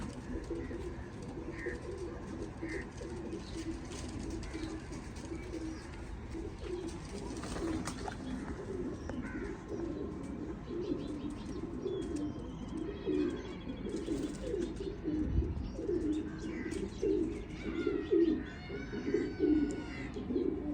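Pigeons coo softly and repeatedly in a steady, low murmur, with occasional chirps from other birds in the background.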